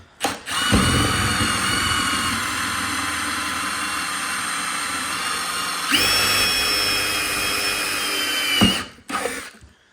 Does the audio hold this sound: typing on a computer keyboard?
no